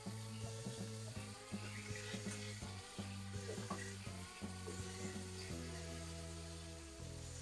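Meat steadily sizzles and fries in a pot for celery stew, with faint clinks and scraping of stirring throughout, no voices.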